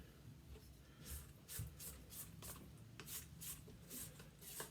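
Quiet, soft rasping scrapes of a spatula pushing sugar down the sides of a mixing bowl during creaming, repeated in a steady back-and-forth rhythm, close by with no voices.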